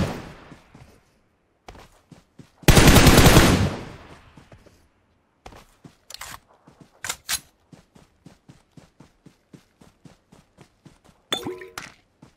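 Machine gun fire in a video game comes as one long loud burst, followed by sparse single shots, clanks and metallic pings spaced by near-silence.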